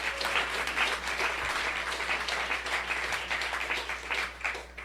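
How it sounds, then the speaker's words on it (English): Applause from the audience at Governor Gretchen Whitmer's signing of Michigan's bipartisan fiscal year 2025 budget, a dense and steady patter of many hands clapping, moderately distant, with a low hum underneath. "Yeah, and clap for that."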